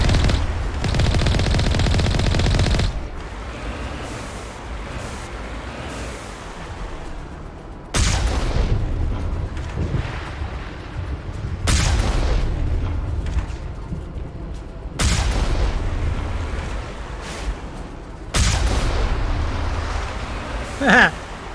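Defense turrets in Mass Effect fire in heavy sustained bursts of rapid gunfire, coming in loud blocks separated by quieter rumbling stretches, close and forceful throughout.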